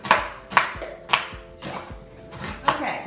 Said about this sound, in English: Now we slice our onion